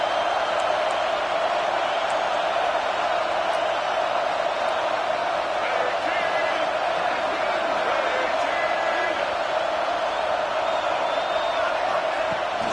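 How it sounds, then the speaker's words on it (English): Stadium crowd noise in a college football video game plays during a first-and-goal, a steady, dense roar of the home crowd with a commentator talking over it. "This offense trying to quieten the crowd on 1st and goal, and they are not cooperating."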